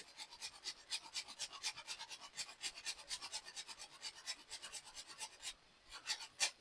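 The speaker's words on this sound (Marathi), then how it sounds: "थोडं जायफळ किसून टाकायचं आहे आपल्याला" Nutmeg is grated for puran poli filling, a quick rhythmic rasping of fine strokes, close but fairly soft, running steadily with a short pause near the end.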